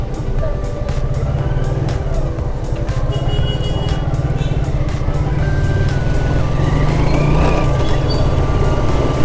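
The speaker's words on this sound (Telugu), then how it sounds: "ట్రాఫిక్ బాగానే ఉంది ఫ్రెండ్స్" Busy road traffic near Birla Mandir in Hyderabad: a continuous loud rumble of passing cars and heavier vehicles, with faint horn-like tones and engine whines drifting through.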